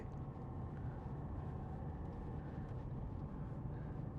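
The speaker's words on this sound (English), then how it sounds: "That the Volvo 5-cylinder engine, it sounds like a tank" A Volvo XC60 D4 five-cylinder diesel engine runs steadily with a deep, heavy, continuous rumble, loud and constant with no talk over it.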